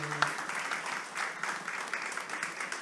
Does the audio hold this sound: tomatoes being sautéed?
no